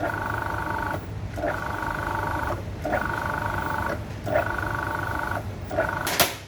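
Food processor pulsing icing sugar into tart dough for a dark chocolate walnut tart: a steady motor whir in repeated bursts of about a second each, separated by brief pauses, close and moderately loud.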